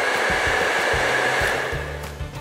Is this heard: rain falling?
no